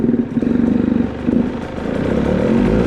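A 2018 KTM 150 XCW two-stroke dirt bike fired up on electric start, its engine catching and running at a steady, close, buzzing idle.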